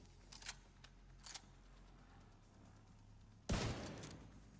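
Gunfire in the game The Division 2, a couple of faint cracks early on, then one loud, sharp sniper rifle shot with a decaying echo.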